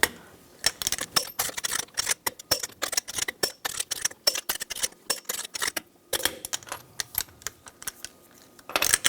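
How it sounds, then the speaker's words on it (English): Torque wrench on the lug nuts of a 2015-2020 Cadillac Escalade, tightened to 140 foot-pounds in a cross pattern, gives a rapid run of sharp, close clicks in irregular bursts with brief pauses between them. "Now I'm going to torque the lug nuts to 140 foot-pounds in a cross pattern to tighten the wheel down"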